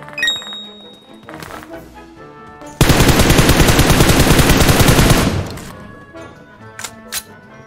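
In PUBG Mobile, a loud burst of rapid automatic gunfire rattles close by for about two and a half seconds, with scattered game sounds and faint clinks before and after.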